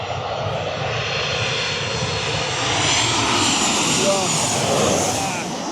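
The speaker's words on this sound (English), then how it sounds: "Anyway, there's a plane coming in." A TUI passenger jet from Munich descends to land on Lanzarote, its engine roar building into a broad, steady rumble that swells slightly as it passes nearby, with wind and people talking underneath.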